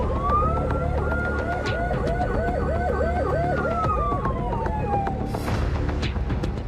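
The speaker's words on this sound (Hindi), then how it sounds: "हूटर का लोग कर रहे हैं गलत इस्तेमाल। तय सीमा से कई गुना अधिक होती है आवाज।" Vehicle hooter siren in Bhopal, a loud wailing electronic tone with rapid repeating warble and a long rising-falling sweep, steady and close over traffic rumble, with a brief burst of noise near the end.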